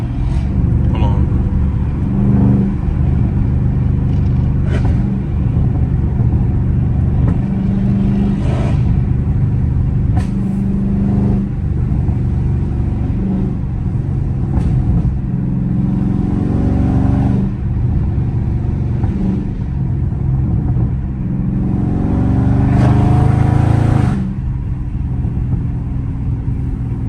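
A Camaro ZL1 sports car engine with an aggressive cam rumbles steadily, with revs climbing and dropping in sharp surges and pops as the manual gears shift down while cruising through a city, loud and close throughout.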